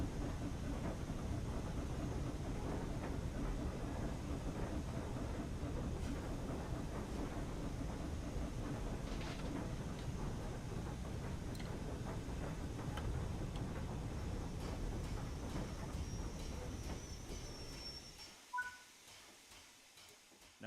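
A locomotive running in a train simulator video game, a steady rumbling engine drone with faint rail clatter that holds for most of the stretch, then winds down and fades to near quiet as the train stops.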